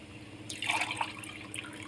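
Water being poured into a pot of chicken and potatoes as a simple aloo chicken curry cooks, a short close splash and trickle rising briefly then easing off, with no talking.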